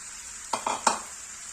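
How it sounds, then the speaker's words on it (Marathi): Cooked rice being stirred into corn schezwan fried rice in a hot pan, a soft steady sizzle with three short scraping stirs in quick succession, close and alone. "थोडंसं व्यवस्थित असं मिक्स करून घ्यायचं आणि यामध्ये ऍड करायचं आहे मस्त असा शिजवलेला भात"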